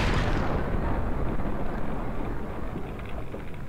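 A grenade blast in the video game Max Payne roars out loud and broad, then fades into a long rumbling decay that fills the whole stretch without any talk.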